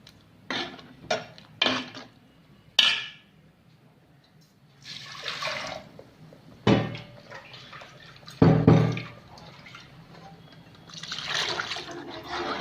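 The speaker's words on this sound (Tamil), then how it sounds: "இப்போ நம்ம இதில் தண்ணி மிக்ஸ் பண்ணலாம்" Water poured and stirred into thick cooked moong dal (pasi paruppu) in a pot for sambar, with splashy pours, spoon clinks against the pot and sloshing bursts at intervals, close and moderately loud.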